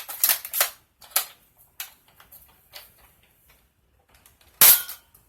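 Dart Zone BlitzFire foam dart blaster clicking and firing, a few sharp close snaps and mechanical ticks spread irregularly, with one loud crack near the end.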